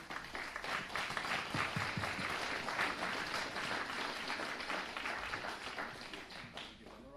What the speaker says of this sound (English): If we can just give them a round of applause.